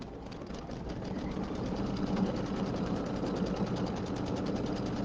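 A sewing machine, likely an embroidery-capable quilting machine, stitches out a quilted present motif for a tree table runner, giving a steady, continuous mechanical whir at even loudness throughout, with no talking.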